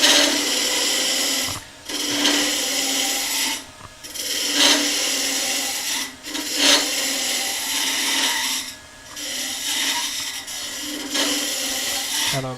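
A woodturning gouge cuts into wood spinning on a lathe, giving close, rhythmic rasping passes of about two seconds each, separated by brief pauses.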